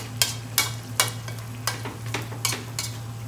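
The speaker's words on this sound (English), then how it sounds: "I'm going to put the gas a bit down because I feel the onions caramelizing and sticking to the bottom a bit" Onions and lamb fry in a pot with a steady low sizzle, broken by regular scraping stirs of a utensil against the bottom, each one a sharp close stroke.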